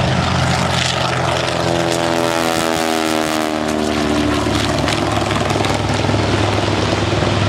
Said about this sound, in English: The PBY making another pass over the end of the airfield.